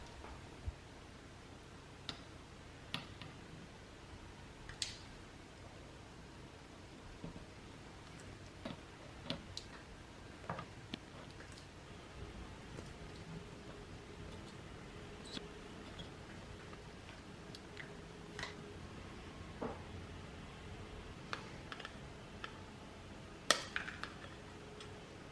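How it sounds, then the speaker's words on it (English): Small wire leads snipped one after another on an electronics clock kit board, sharp isolated clicks at irregular intervals over a quiet, faint room background. "I'm going to solder them in place and trim the wires"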